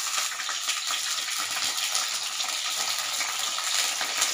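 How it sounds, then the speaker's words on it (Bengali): Green chillies fry in hot oil in a home kitchen, a steady bright sizzle and crackle running continuously, close and fairly loud, with no voices. "এই লঙ্কাগুলো আমি ইঁচড়ের মধ্যে দেব, তাই একটু তেলে ভেজে নেব যাতে কাঁচা গন্ধটা না থাকে"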